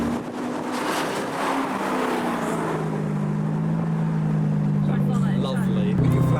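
Classic cars, including a Cobra and an MX-5, drive past while leaving Silverstone, a steady loud engine drone with a low hum that shifts pitch as they pass close by, under continuous crowd chatter and voices.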